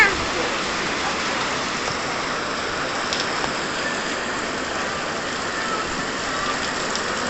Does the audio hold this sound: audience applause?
no